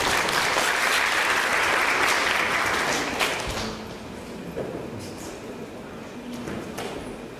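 Audience applause for a team about to present a social branding app at a pitch event, loud dense clapping for about three seconds that thins and fades to scattered claps and room noise.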